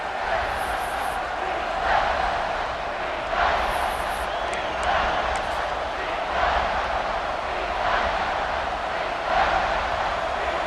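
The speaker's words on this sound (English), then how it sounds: "This crowd is trying to inspire this defense to make a big red zone stop." Stadium crowd at an Ohio State vs Nebraska football game, a steady roar of cheering and noise surging in repeated swells as the defense faces a red zone stand, loud and continuous.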